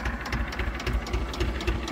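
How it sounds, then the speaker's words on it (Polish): Ursus C330M tractor engine working in a wet, sticky autumn field, a steady close low rumble with a knocking, pulsing rhythm running throughout, with no talk. "I trochę się traktor kopia."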